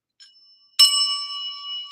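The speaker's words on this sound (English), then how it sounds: "I found my bell." A desk bell gets a single sharp tap, a bright metallic ding that rings on and slowly fades, close and loud after a faint lead-in.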